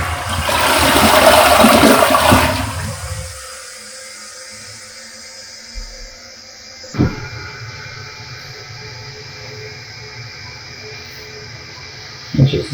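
A toilet flushes loudly in a newly remodeled half bath, a strong rushing swirl for about two seconds that drains away into a quiet tank refill hiss with a couple of soft clunks.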